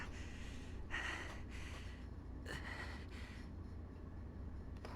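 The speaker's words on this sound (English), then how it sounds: "Why are you breathing so loud in my ear?" Loud breathing from a video game character in Honkai: Star Rail, several breathy gasps and snorts in short bursts over a low rumbling background, fairly close.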